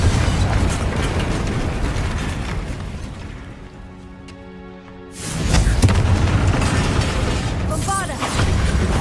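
Fiery Confringo spell blasts from the video game Hogwarts Legacy boom loudly. The roar dies down to a brief low rumble, then a second heavy explosion hits, with crackling debris afterward.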